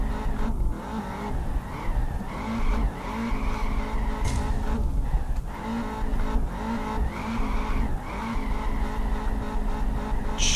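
A Nissan GT-R with about 800 horsepower drifts in the Peak Angle racing game. Its tires squeal continuously over a steady, high-revving engine note, loud and unbroken, with no talking.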